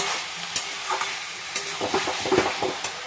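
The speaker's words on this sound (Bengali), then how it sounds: "আমি এই কপির ঘণ্টটা আরও দশ থেকে পনেরো মিনিট কিন্তু কষিয়ে নিয়েছি" Cabbage ghonto with peas and coriander being sautéed in a pan, a soft continuous sizzle broken by repeated close spatula scrapes and knocks in an uneven stirring rhythm.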